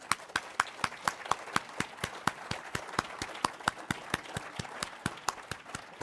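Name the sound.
applause for award honorees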